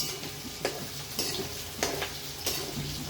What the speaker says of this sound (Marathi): आता आपण कढीमध्ये ह्या मिरच्या घालूया आणि स्लो टू मिडियम गॅसवरती ह्या मिरच्याही अशाच कडक करून घेऊया